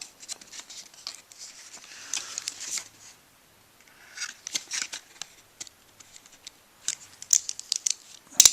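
A cardboard toy box is opened carefully, with bursts of snipping and crisp rustling scrapes in short clusters separated by quiet pauses, close by.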